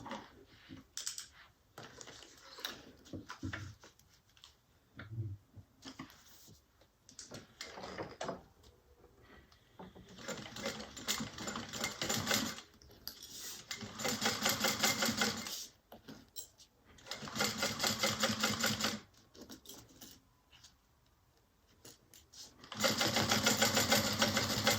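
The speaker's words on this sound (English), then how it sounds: "we're going to sew that together with a 1/4 inch seam allowance" A sewing machine stitches two pieces of fabric together with a quarter-inch seam allowance, running in several loud, close bursts of rapid whirring. Short pauses fall between them, filled with quieter handling clicks and thuds.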